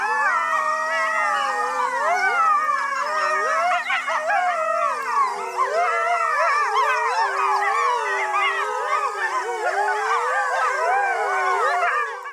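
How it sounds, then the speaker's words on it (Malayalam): Wolves howl in a layered chorus of several overlapping, wavering voices that rise and fall continuously, loud and close, with occasional yips mixed in and no talking. "ഇവർ ഇങ്ങനെ ഹൗൾ ചെയ്യുന്ന സൗണ്ട് നമുക്ക് കേൾക്കാൻ പറ്റും"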